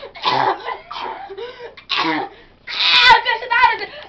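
A child coughs in a few rough, wet-sounding bursts up close, mixed with short vocal sounds and throat noises.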